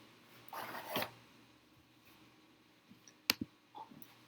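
A computer mouse gives a few faint, crisp clicks in a quiet room, two sharp taps close together after some softer rustling earlier on.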